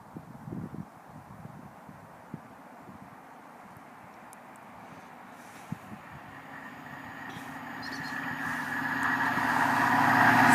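An HST high-speed train with Class 43 power cars nears the Oddingley level crossing in Worcestershire, its diesel engine roar swelling steadily from faint and distant to loud and close, with light rattles along the way.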